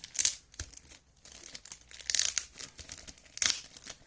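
Plastic cargo mailer bags crinkle and rustle during a manga parcel unboxing, several close bursts of crumpling separated by short pauses.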